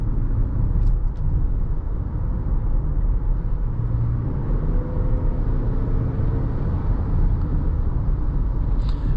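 A 2021 Toyota Highlander XSE AWD accelerating in sport mode, heard from inside the cabin as a steady, loud low engine and road rumble with no break.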